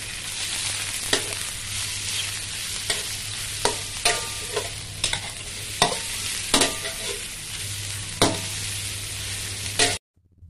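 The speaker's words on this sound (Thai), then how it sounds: "เราก็ใส่ผักลงไปเลยค่ะก็จะมีหอมหัวใหญ่มีเห็ดมีข้าวโพดอ่อนแล้วก็แครอทค่ะ ผัดคลุกเคล้าให้เข้ากันเลยนะคะ" Onion, mushrooms, baby corn and carrot are stir-fried for glass noodles with egg, giving a steady loud sizzle broken by repeated scraping and tossing strokes from a spatula. It stops abruptly at the end, and no one speaks.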